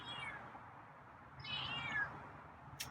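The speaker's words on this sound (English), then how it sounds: "Oh, getting more meowy." A feral cat gives two drawn-out meows, one at the start and a louder, rising one midway, close by and fairly faint against a quiet room hum.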